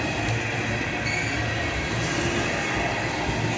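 A long CSX freight train of tank cars rolls past close by, a continuous loud rumble of wheels and cars with faint rail squeal, steady throughout.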